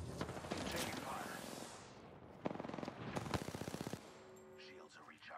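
Rapid automatic gunfire from the video game Apex Legends, loud bursts in the first two seconds and again from about 2.5 to 4 seconds, with game effects and a voice heard between volleys.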